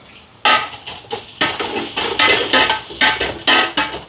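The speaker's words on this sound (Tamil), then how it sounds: "வெங்காயத்தை சேர்ப்போம் இதோட கருவேப்பிலை இப்போ இதெல்லாம் நல்லா வதங்கட்டுக்கும்" Onions and curry leaves sautéing in a pan, a close sizzle broken by repeated scraping stirs of a spatula against the metal, loud and rhythmic with no voices.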